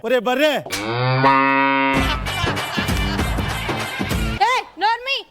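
A loud, drawn-out buffalo moo with a rising then falling tone, followed by voices chattering and short vocal bursts.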